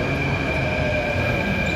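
A Mumbai metro train runs along the track in a loud, steady rumble with a high sustained whine from the wheels, heard from inside the carriage with no talking.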